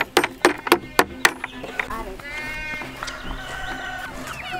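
Several short, sharp bleats from goats at the start, followed by a longer wavering bleat and softer calls against farmyard background noise.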